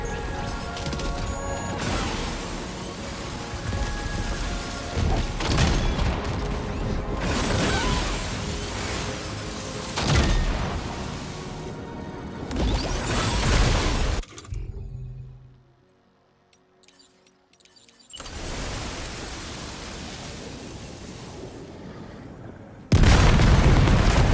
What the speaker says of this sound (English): The Magellan's main cannon is online and ready to provide